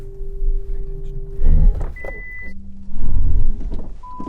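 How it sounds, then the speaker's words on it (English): A VW ID Buzz electric van reversing and braking automatically, with a steady electric hum, a sudden low jolt, and several short warning tones and beeps inside the cabin. "The car's safety system spotted that there was a car behind me and it auto-braked."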